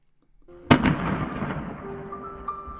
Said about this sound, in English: You can enjoy some fireworks in the meantime.